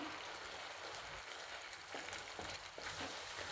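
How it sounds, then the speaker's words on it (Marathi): Ground wet masala paste fries in hot oil in a pan for an egg curry, producing a soft, continuous crackling sizzle with faint stirring scrapes, quiet and without talk. "आपल्याला हे वाटण तेलात चांगलं परतून घ्यायचं आहे."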